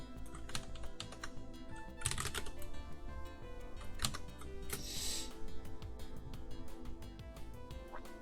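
Computer keyboard typed on steadily at close range, a continuous stream of crisp key clicks with a few louder taps over about eight seconds, no speech.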